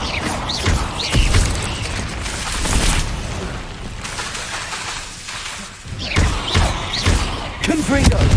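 Spell impacts in the Hogwarts Legacy video game, loud booming blasts and thuds with crackling debris, several hits in a row amid busy combat sounds.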